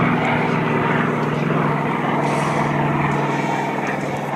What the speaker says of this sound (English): Here we have another Corsair taking off.